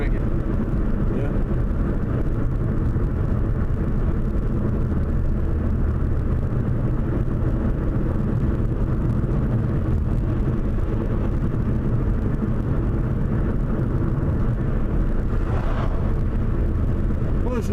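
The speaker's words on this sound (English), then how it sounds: "this long line of cars is giving me a leisurely drive up here" A car rolls slowly up Route 7 in a long line of traffic, a constant low engine and road drone heard from inside while people talk over it.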